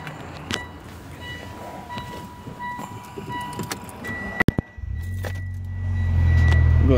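Inside a Mitsubishi Evo X fitted with a Cobb 3-inch catback exhaust: quiet cabin rustling and a sharp click before the engine cranks and starts, settling into a deep, loud idle rumble.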